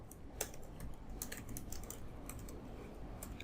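Close, crisp keyboard typing in scattered bursts of clicks over a steady background hiss, as text is changed while customizing a website theme.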